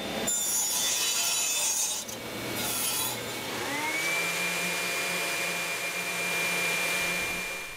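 Close, continuous abrasive whirring of a power sander working wood, with a motor whine that shifts pitch partway through and a steady gritty rasp.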